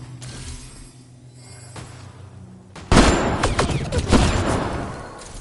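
In a PS4 shooter video game, a few faint shots sound over a quiet stretch before a sudden, loud burst of rapid gunfire erupts. Sharp cracks then keep coming close together until the end.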